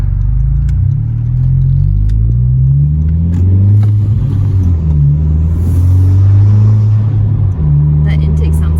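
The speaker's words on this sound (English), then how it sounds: "we're just gonna do some pretty casual driving up and down the street and back" A 2020 Honda Civic Si with a MAPerformance street exhaust cruises casually along a street with the windows down. It gives a steady, loud low engine drone whose pitch rises and falls gently as it drives.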